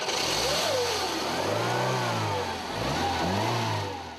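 A Renault 16 engine revs with a raspy yet melodic tone, rising and falling in steady swells, loud and close with no talking over it.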